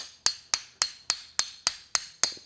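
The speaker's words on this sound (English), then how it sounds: "So I'm just taking a hammer and a punch, and I'm going to take this apart." Eight sharp, evenly spaced metallic hammer strikes on a punch, driving apart a pen kit at a woodturning lathe bench, each hit ringing briefly and decaying before the next, close and alone.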